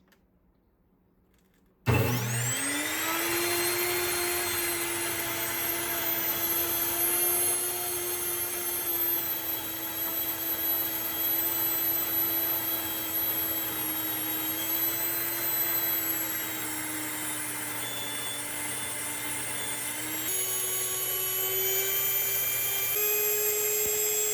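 A kitchen appliance starts abruptly and whirs with a loud, steady high-pitched motor drone like a vacuum cleaner, shifting pitch slightly near the end.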